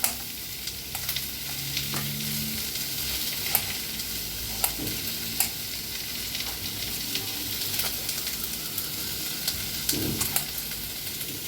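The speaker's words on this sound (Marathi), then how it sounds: "कांदा हलकासा भाजत आलाय" Onions fry in a pan with tomatoes being prepared for a paneer dish, giving a steady close sizzle with occasional scraping stirs and clinks, no talking.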